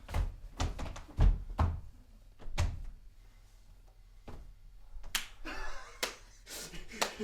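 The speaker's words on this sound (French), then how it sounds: "Ces applaudissements, ils nous dérangent" An actor on stage claps for himself in a theatre performance: scattered, irregular sharp hand claps, some single and some in quick bursts, close and fairly quiet with pauses between.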